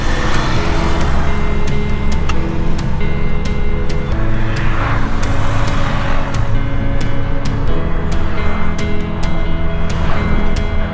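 A car drives along a road in Abuja, Nigeria, with steady engine and tyre noise and a continuous road rumble throughout, with no one speaking.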